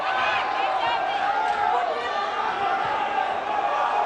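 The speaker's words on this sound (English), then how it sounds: "The crowd is losing their minds." Crowd at a semi-pro flyweight MMA bout roaring and cheering wildly, a dense constant wall of shouting voices with excited yells rising above it, loud and close.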